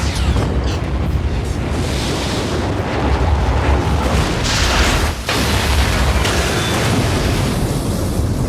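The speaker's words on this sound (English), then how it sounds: "After the explosion, only Jimmy survived" A bomb detonation in a film: a loud, sustained explosive roar with rumbling booms and crackling bursts, dense and continuous, with a brief dip before the roar resumes.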